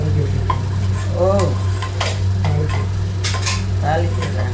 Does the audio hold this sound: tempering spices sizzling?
yes